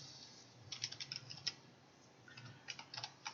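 Typing on a computer keyboard, a faint, quiet series of light clicking keystrokes in two short bursts separated by a pause, with no talking.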